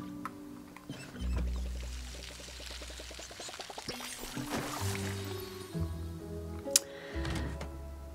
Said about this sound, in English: I guess I have to water this